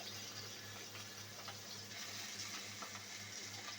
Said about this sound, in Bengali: আমি এভাবে উল্টে পাল্টে মাছগুলো ভেজে নেব।